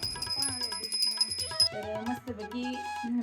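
A small hand bell rings in repeated, bright metallic strikes during a Krishna puja at home, with chanted voices and other sounds moving beneath it throughout.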